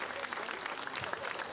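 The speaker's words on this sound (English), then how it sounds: "Another round of applause for Rebecca" Applause from an outdoor rally audience on the Fraser Coast, a brief dense patter of clapping with some voices mixed in.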